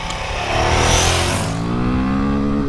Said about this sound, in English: this engine has a much stronger top end